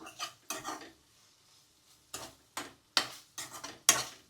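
Utensil stirring eggplant curry with ginger paste in a pan: several short scraping, clinking strokes in bursts, close and fairly loud, with brief quiet gaps between them.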